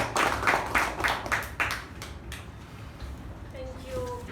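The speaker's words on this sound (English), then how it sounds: "So I request you to give her a huge round of applause." A short burst of audience applause at a Toastmasters club meeting for a debutant role taker: several rhythmic rounds of clapping that fade after about two seconds.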